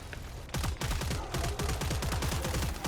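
Rapid bursts of AK rifle fire in the Killing Floor 3 video game, a fast rhythmic volley of loud, punchy shots repeating steadily after a brief pause.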